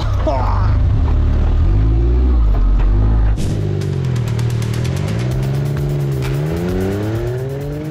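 4WD off-road buggy engine revving hard, with loud, rising and falling mechanical tones, a sharp shift partway through, then a steady climbing rev with a rattling pulse, close and dominant.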